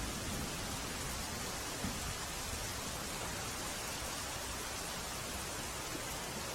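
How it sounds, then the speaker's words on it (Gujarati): Steady, heavy monsoon rain pours down on a village near Modasa in a continuous hiss, uniform and loud throughout with no breaks or voices. "ગામે ધોધમાર વરસાદ વરસ્યો"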